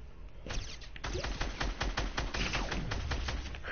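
SCAR rifle in a multiplayer video game firing a rapid burst of sharp, evenly spaced shots that starts abruptly and continues steadily to the end.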